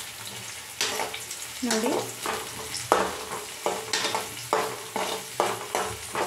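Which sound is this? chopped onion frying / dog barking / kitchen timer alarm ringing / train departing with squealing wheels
chopped onion frying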